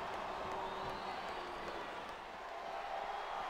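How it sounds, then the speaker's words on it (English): A crowd cheers inside a WWE SmackDown vs Raw 2008 wrestling arena on PS2, a steady distant roar of fans holding level throughout, moderately faint with no distinct claps. "Now the fans start to cheer for him."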